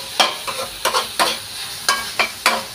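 Pancit bato noodles being stir-fried with vegetables in a pan, a series of sharp scraping stir strokes over a soft sizzle, close and fairly loud, about seven spaced tosses.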